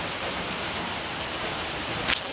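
Steady, close rain pours down outside a shop front in a continuous, even hiss with no pauses, and no voices are heard.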